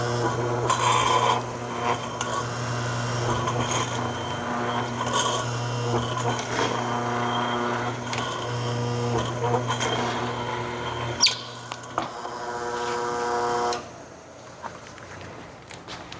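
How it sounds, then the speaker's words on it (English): A single-spindle table-top paper drill whirs and grinds steadily nearby with rasping, scraping bursts as it bores through paper, stopping abruptly near the end and leaving a quieter room. "It's a single spindle drill, manually operated,"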